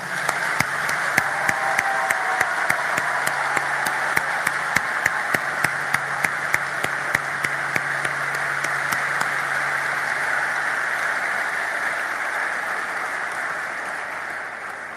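Sustained applause from an audience at a ceremony for award recipients, steady and fairly loud, with sharp individual claps standing out early on before the clapping gradually thins.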